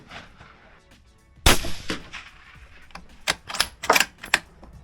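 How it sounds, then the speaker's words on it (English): Rifle shots ring out on an outdoor shooting range during deerstalking practice, a loud sharp crack followed by a cluster of several more sharp reports in quick succession, with no talking. "So I've just put 8 rounds down the range and it's held zero really well"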